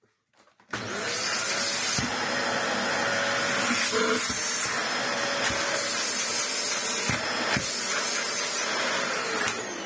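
A Dyson DC25 upright vacuum cleaner under repair starts up after a brief quiet moment and runs with a loud, steady motor roar and airflow hiss, punctuated by a few faint clicks and knocks.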